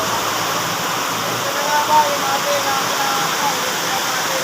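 Steady, heavy rainfall pours down in a constant broadband hiss, with faint voices and a few drips from a leaking roof underneath.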